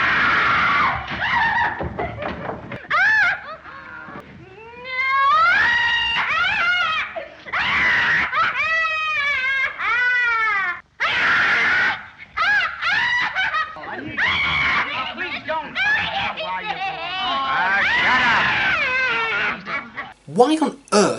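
A woman screams repeatedly in a mid-1930s horror film, The Invisible Man, loud drawn-out shrieks with rising and falling pitch mixed with other voices and film sound throughout.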